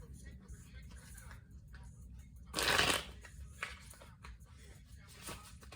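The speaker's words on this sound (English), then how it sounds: "get a good shuffle for you all." Tarot cards riffle in a quick burst of crisp shuffling, followed by softer sliding and tapping of the deck at close range.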